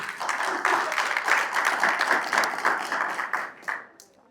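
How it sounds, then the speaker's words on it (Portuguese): Audience members at a church leadership course clap in a steady, moderately loud burst, with uneven rhythmic pulses running throughout before the clapping thins out near the end. "Então aplaude enquanto eu tomo um café aqui"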